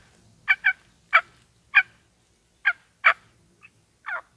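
A wild Georgia turkey gobbles during a spring hunt, a series of about eight sharp, rattling calls in uneven bursts, clear against a quiet outdoor background with no talking.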